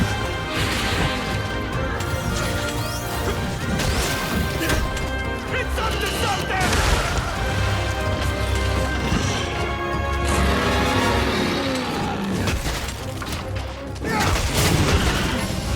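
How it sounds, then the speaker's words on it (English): Charge blade combat in Monster Hunter Rise: the sword is driven in and sets off a big elemental explosion. Dense, loud crashes and booming impacts pile up continuously under a busy game soundtrack. "You stick it in and do a big explosion with elemental effects"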